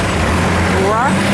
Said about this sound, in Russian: Наша лодка чухается.